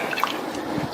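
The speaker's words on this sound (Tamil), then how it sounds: "கட் பண்ணி வச்ச வாழைக்காவை இதுல சேர்க்கிறேன்" Cut pieces of green plantain drop into a pan of boiling water, giving a brief close splash and soft wet plop with a little bubbling around it.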